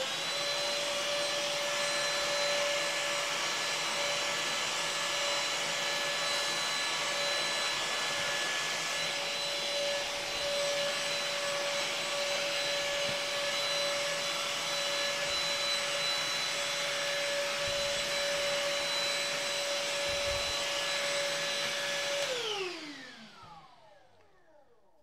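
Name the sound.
vacuum cleaner running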